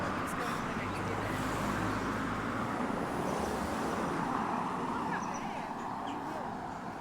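Cars passing on a one-way street beside a church, heard as a steady, moderately distant wash of traffic rumble, with faint bird calls above it.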